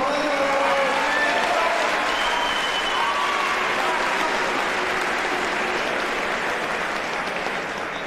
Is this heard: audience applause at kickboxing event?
yes